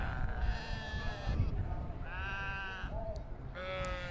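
Sheep bleat in a livestock pen at the Royal Highland Show, three long wavering calls close by with short gaps, over a steady murmur of show crowd noise.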